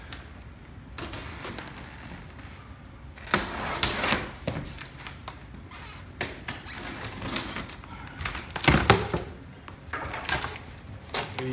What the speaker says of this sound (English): what we're going to do is open the box